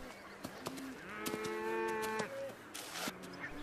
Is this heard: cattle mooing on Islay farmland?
yes